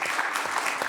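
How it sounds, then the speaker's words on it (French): Audience applause for a deputy mayor at the Nice Climate Summit, a brief steady wash of clapping from a crowd, loud and continuous with no voices over it. "on peut vous applaudir,"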